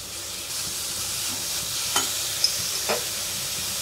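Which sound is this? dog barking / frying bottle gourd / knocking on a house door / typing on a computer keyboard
frying bottle gourd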